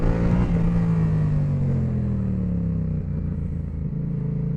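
A Yamaha MT-07 motorcycle held on the throttle during a wheelie, its engine droning loud and steady, then slowly falling in pitch as the revs ease, close with no talking.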